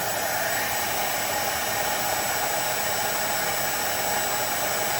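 A cordless stick vacuum, a Hoover Onepwr Blade or Dyson V10, runs steadily on low mode, giving a constant, loud airy whir with a high-pitched whine and no changes in pitch or level.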